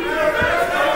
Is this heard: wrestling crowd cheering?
yes